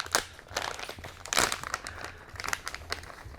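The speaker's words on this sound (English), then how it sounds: "Sorry about all the rustling here." Crinkly plastic packaging rustles and crunches in bursts up close while unboxing a Yokomo YZ-2 DTM 3.1 2WD RC buggy kit, with one louder crumple in the middle.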